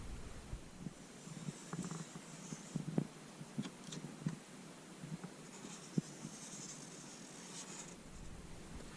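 Cloth wiping down the interior trim area around a chrome insert in a 2016+ Toyota Tacoma, heard as a quiet continuous rubbing and swishing with faint scattered taps, close up and without talk.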